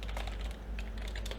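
Steady, rapid clatter of keys on a computer keyboard, close and fairly loud, with no voices over it.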